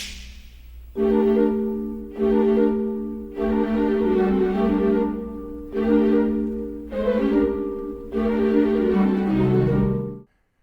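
Vibraphone and marimba play the opening credits music of Catch Me If You Can, a series of mellow ringing mallet chords struck in steady groups, each chord sustaining before the next, alone and fairly close.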